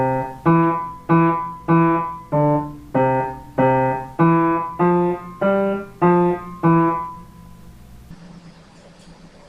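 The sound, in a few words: music played without legato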